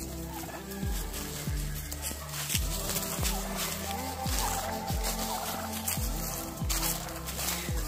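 Repeated loud turkey gobbles, a rattling burst every second or so, with a chorus of birds and scattered noise behind.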